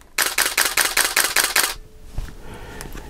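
Rapid burst of a Nikon D700 full-frame DSLR shutter firing at high speed, about eight crisp evenly spaced clicks over a second and a half, close and loud, followed by quiet handling noise.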